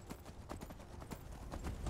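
Horse hooves clip-clop in the video game Skyrim, a quick run of fairly steady soft thuds carried over a low background rumble, close by and moderately loud.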